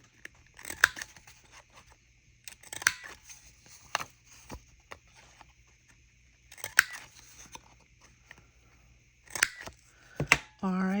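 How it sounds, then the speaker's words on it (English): A handheld paper punch clacks through the corners of a folded card in a quiet craft room, several sharp separate snips spaced a few seconds apart, close and fairly soft, with faint talking between them. "take your punch again and punch all four corners"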